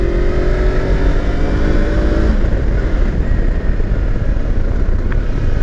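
Kawasaki Versys 300x motorcycle pulling out of a hairpin bend under acceleration, a steady loud engine drone with wind rush that holds constant throughout, a faint tone shifting midway as the revs change.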